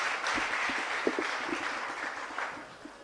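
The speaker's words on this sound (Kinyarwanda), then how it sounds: "reka dukomere Imana amashyi menshi cyane" Crowd applause in a church after a choir performance, a dense patter of many hands clapping together that runs steadily for a few seconds and then slowly fades.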